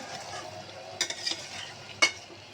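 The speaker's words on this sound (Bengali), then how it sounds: "সুন্দর করে কষে নেব" Boal fish curry with new potatoes sizzles steadily in a hot pan while a utensil scrapes and stirs a couple of times.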